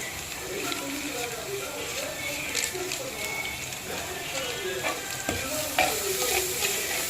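Pasta masala fried with ginger-garlic paste in a frying pan, stirred with repeated scraping strokes over a constant sizzle, with talking in the background at points.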